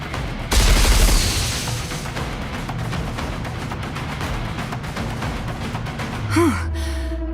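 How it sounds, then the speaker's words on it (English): Missiles launching in the video game Nikke: a loud booming barrage with dense crackling bursts, ending in a rising whoosh and sharp synthetic tone. "Missile container online. Firing missiles now."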